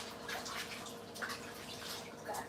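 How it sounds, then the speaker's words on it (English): A tap runs while hands are washed under it during lemon meringue pie baking, a continuous splashing hiss with small bursts and drips, at moderate level without talk. "let me wash my hand"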